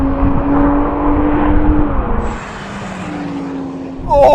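Two Toyota Supras race down a drag strip, a Mark IV and a 3-litre model. Loud engine drones sweep past, rising and falling in pitch before fading, and a fresh burst of noise arrives at the end.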